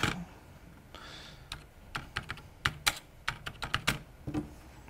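Crisp, uneven keystrokes on a self-built mechanical keyboard during testing, starting sparse and then coming in quick bursts of clicks, close by with no talking.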